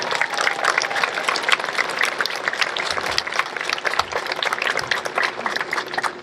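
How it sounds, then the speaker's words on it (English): Sustained audience applause for honor graduates at a middle school graduation ceremony, dense steady clapping from a large crowd lasting throughout, with no talk over it. "Let's have another round of applause."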